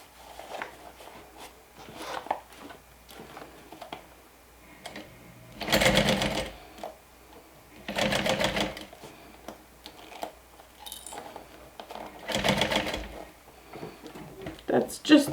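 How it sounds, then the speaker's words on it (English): A sewing machine stitches binding down with a long topstitch length, running in three distinct loud bursts of rapid whirring separated by pauses filled with light handling clicks and rustles, close up. "So now we're just going to stitch that binding down."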